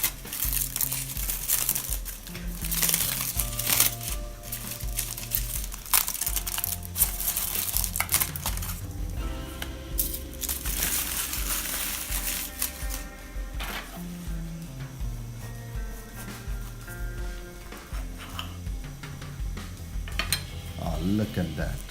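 A toasted chilli con carne burrito is unwrapped and cut on a table: rustling wrapper, clinking cutlery and knife scrapes against a plate, busy and close, with background music and little talk.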